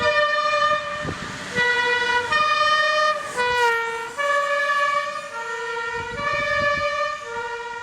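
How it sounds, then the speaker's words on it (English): Emergency sirens alternating between two tones over steady traffic rumble, with a brief horn blast partway through. "ambient, distant, city kind of feel to those sirens"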